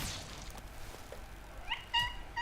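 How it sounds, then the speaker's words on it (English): A real house cat meows once, fairly faint and brief near the end, over quiet background sound while Valheim gameplay runs. "It's one of my cats."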